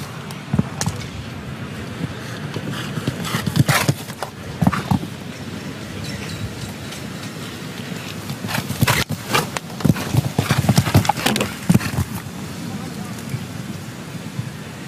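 Horse hooves pound steadily on turf during a show jumping Grand Prix at Aachen, a rhythmic galloping beat with crowd murmur and a commentator's voice over it throughout.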